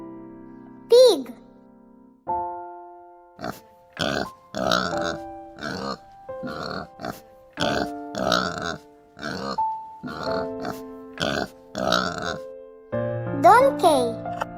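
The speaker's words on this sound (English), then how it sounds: "Pig." A pig oinks and grunts in a string of short, close bursts, mixed with a voice speaking, as in a children's animal-sounds lesson.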